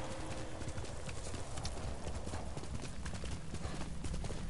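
Rhythmic clip-clop of horse hooves trotting steadily, close and continuous, with game-like ambience and no speech.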